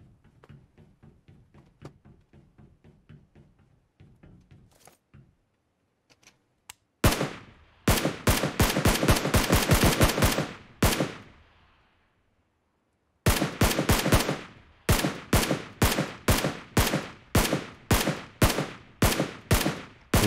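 Bursts of gunfire in PUBG Mobile on the Erangel map: soft clicking and handling noises, then a loud rapid automatic volley, a pause, and a second string of evenly spaced, sharp close shots.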